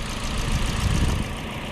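The 1.6-liter four-cylinder engine of a 2022 Toyota Corolla Altis idles nearby with its bay exposed, a steady low hum and whir with no talk over it.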